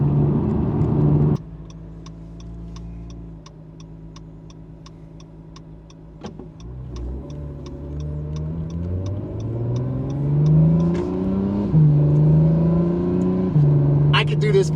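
An Acura NSX engine hums at steady speed and then revs up through the gears in manual mode, its pitch climbing and dropping with each shift inside the cabin, with a faint ticking over the drone.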